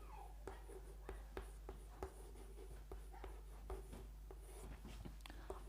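Pen scratching across paper as a definition is written out, soft and close with short irregular strokes and taps over a faint steady hum.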